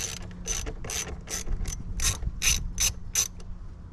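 A ratchet clicks in quick bursts of repeated pawl ticks, close and fairly loud, while the positive battery terminal is tightened on a 2023 Chevrolet Colorado during a ditch light install.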